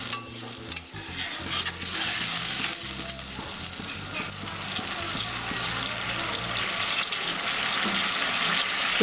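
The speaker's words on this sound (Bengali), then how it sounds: "আমি 2 কাপের মতো জল দিয়ে দিচ্ছি।" About two cups of water go into a pan of pomfret fish curry, making a close burst of splashing and bubbling that settles into a steady rushing simmer with faint clinks of cookware and no talking.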